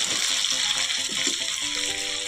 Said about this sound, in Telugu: ఇప్పుడు చక్కగా వేగిపోతుంది